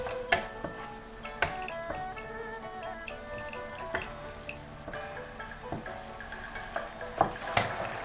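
Broth with meatballs bubbling in a pot, giving a steady simmering hiss with scattered clinks and knocks of a utensil against the pot, moderately close and with no talk.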